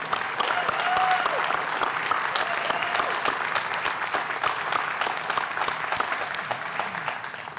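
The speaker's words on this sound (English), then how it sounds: "Could we give them another round of applause?" An audience at a hackathon awards and closing event applauds with loud, sustained clapping from a sizable crowd that carries on steadily to the end.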